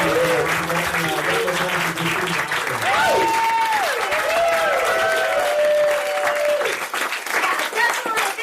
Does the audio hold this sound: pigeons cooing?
no